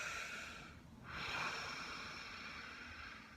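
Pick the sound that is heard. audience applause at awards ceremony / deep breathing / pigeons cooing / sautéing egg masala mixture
deep breathing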